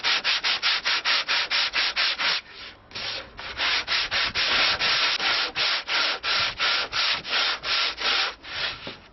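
An Anglo-Saxon lyre's wooden board is sanded with 120 grit sandpaper in steady, rhythmic back-and-forth strokes, close and loud, with one brief pause early on and no talking.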